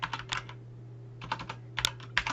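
Keys clatter on a home computer keyboard in short, quick clusters of taps separated by pauses, close and fairly quiet with no talking.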